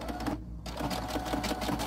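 Sewing machine running a utility stitch with an overcast foot along a fabric edge, a steady continuous whir with a brief dip early on, close and alone without speech.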